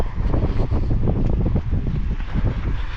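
Continuous cool wind roars across the microphone during a long run near Douarnenez, a dense low rumble that stays loud and steady throughout.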